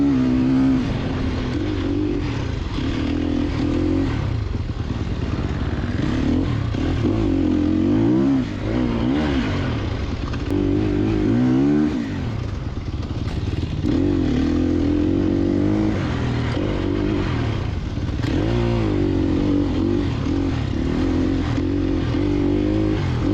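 A Sherco 300 SEF dirt bike engine revs hard and continuously, its pitch rising and falling as the throttle opens and eases, loud and close throughout.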